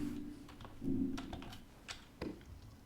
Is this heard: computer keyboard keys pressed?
yes